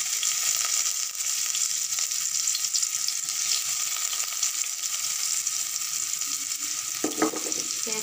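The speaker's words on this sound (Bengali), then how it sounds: "পেঁয়াজ কুচিটা ভেজে নেব।" Chopped onion frying in oil with black cumin, giving a steady close sizzle throughout, with a short burst of stirring or scraping near the end.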